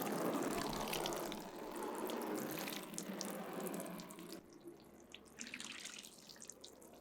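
Water poured over a tabletop watershed model to simulate rain, running off the land and a construction site area; a steady close splashing and trickling stream, continuous for about four seconds, then quieter with scattered drips.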